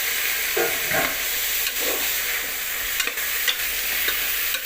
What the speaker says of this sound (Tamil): நல்லா வதங்கணும் நல்லா வெங்காயம் தக்காளி எல்லாம் வதங்கிட்டு